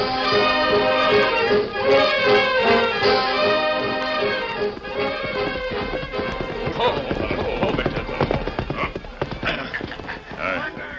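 Horses move along at a Western carnival with steady clip-clopping hooves and some animal noise, mixed under other sounds and fairly close.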